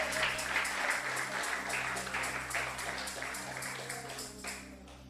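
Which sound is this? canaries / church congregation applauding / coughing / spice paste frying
church congregation applauding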